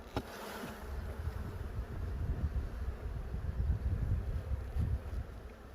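Honeybees swarm around an opened hive while wildflower honey is harvested, a steady low droning buzz filling the scene up close, with a few wind bumps on the microphone.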